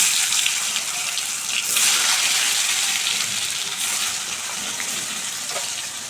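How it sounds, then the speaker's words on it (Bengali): Chopped potatoes frying in hot oil with cumin make a loud, dense, continuous hiss that stays even throughout, with no voices. "আলুগুলো আমি 1 মিনিট ভেজে নিচ্ছি।"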